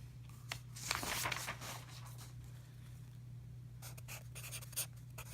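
A geometry proof being written by hand, pen strokes scratching softly and continuously on paper, close and quiet over a low steady hum, with no talking.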